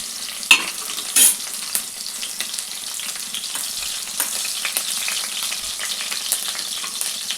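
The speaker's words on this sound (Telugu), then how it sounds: "Oil heat ఎక్కిందండి. ఫస్ట్ పచ్చిమిరపకాయలు వేసుకుంటున్నాను." Green chillies fry in hot oil in a pan for vegetable fried rice made from leftover rice, a steady close sizzle with occasional pops and crackles running throughout.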